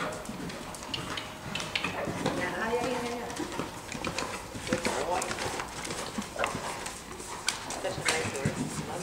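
A horse walking outdoors with a steady clip-clop of hooves close by, running under ongoing talk from people nearby and broader background noise.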